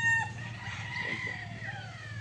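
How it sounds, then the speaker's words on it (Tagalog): A sweater gamefowl rooster crows once and clucks at a modest distance, a short, fairly quiet call over a faint steady background. "Ito ay isang Larry Romero Raptor sweater, isa sa pundasyon or baseline ng nag-iisang GTP"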